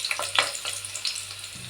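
Ginger garlic paste and green chillies sizzle in hot oil in a pot for chicken gravy, a close, steady fry with a few quick stirring scrapes over roughly two seconds.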